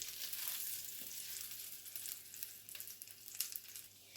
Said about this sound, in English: We're only going to be adding a little bit of oil to fry the sausages, but we're also going to put it on the low heat.